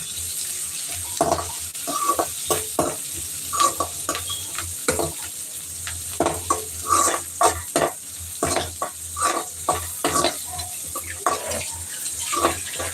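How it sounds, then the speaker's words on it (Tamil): Curry leaves and onion sautéing in oil for a Tamil-style squid stir-fry, with a steady soft sizzle broken by repeated scraping stir strokes and some splashy, watery clatter throughout. "கருவேப்பிலையும் நல்லா வதக்கிக்கோங்க."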